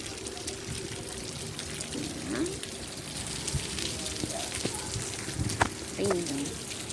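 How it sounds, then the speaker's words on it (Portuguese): Heavy rain pours steadily outdoors in Fortaleza, a dense hiss near trees, with a few faint bird calls and brief low voices mixed in. "Olha só que tanta chuva."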